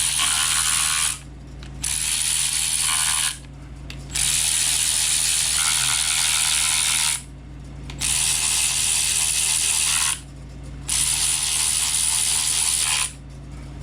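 Ratchet wrench running down cover plate bolts on an LS engine, several bursts of fast, rattling clicks, each lasting a couple of seconds with short pauses between, close and loud over a low background hum.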